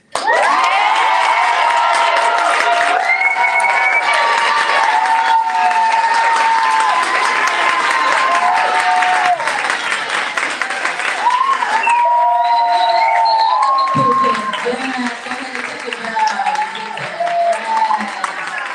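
Audience at the Becoming More Summit applauding and cheering after a speaker finishes, a loud, sustained wash of clapping with shouts and whoops that keeps going for the whole stretch, thinning slightly toward the end.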